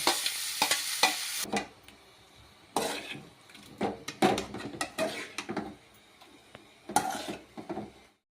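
Onions frying in hot oil in a pan for dhaba-style mutton curry, with repeated bursts of stirring scrapes and sizzling broken by short pauses, close and moderately loud, with no talking.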